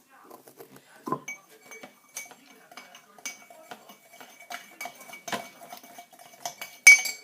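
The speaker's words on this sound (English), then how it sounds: "Next thing we need is a nice big stir." A spoon giving a big stir to a fake volcano mixture tinted yellow in a bowl, with light clinks and scrapes against the bowl at an irregular pace, close and fairly quiet.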